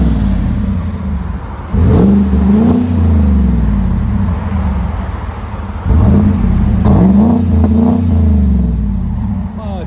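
A 2017 GMC Sierra Denali pickup with a 6.2L V8 and a Vibrant resonator revs twice, each time a deep, throaty rise that falls back to a rumbling idle. The engine is close and loud, with people talking around it.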